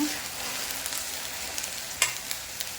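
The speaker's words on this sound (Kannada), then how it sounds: "ನಾವು ರುಬ್ಬಿಟ್ಕೊಂಡಿರುವಂಥ ಮಸಾಲೆನ ಆ್ಯಡ್ ಮಾಡ್ಕೊಳ್ಳೋಣ ಈಗ ಒಂದು ಚೆನ್ನಾಗಿ ಮಿಕ್ಸ್ ಮಾಡ್ಕೊಳ್ಳೋಣ" Ground masala for egg sambar being stirred in a hot pan, a steady soft sizzle with occasional light scrapes and taps of the spoon, close and continuous.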